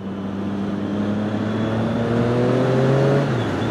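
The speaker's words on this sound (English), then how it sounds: "this bike sounds flipping marvellous when you get up the revs" A Triumph Daytona 675R sport motorcycle engine revs up with a rising, sustained whine that climbs in pitch, then drops off near the end.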